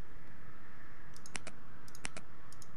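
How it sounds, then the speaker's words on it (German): Sharp, isolated computer mouse clicks from someone playing the online MMORPG Champions of Regnum, arriving in a few small clustered bursts over low steady background hiss, with no talking. "Hast du nochmal drauf geklickt?"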